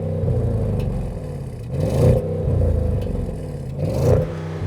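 An Audi S8 V8 engine revs while the car stands still, held back by a soft limiter near 4,000 RPM, giving a few short rising blips over a steady idle hum.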